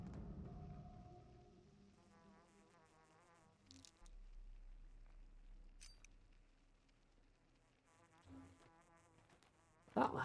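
Insect-like buzzing drones in the video game Pathologic 2, a faint, wavering hum that comes and goes over about ten seconds, with scattered soft clicks and a brief louder burst at the very end. No one speaks.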